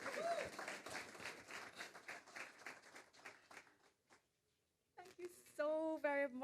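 An audience at a Jamaican consulate reception gives a warm round of applause that fades to silence, followed by someone speaking.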